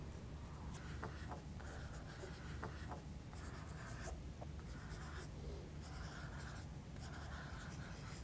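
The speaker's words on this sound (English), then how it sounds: "I've also got an apple green pencil which I'm going to work in on top" A Derwent Inktense pencil in apple green scribbles over blue lines on paper, giving a close, continuous scratchy rasp in quick repeated strokes, steady throughout with no voices.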